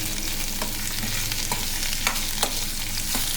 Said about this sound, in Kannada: ಇದರಲ್ಲಿ ನೀರೆಲ್ಲ ಹೋಗೋವರೆಗೂ ಸ್ವಲ್ಪ ಫ್ರೈ ಮಾಡಬೇಕು